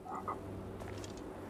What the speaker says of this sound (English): That's a cool frog.